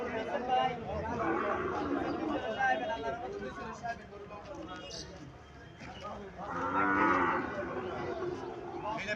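A bull calf at a village cattle market lets out two loud, drawn-out moos, the second stronger, while people chatter and talk nearby in the crowded market.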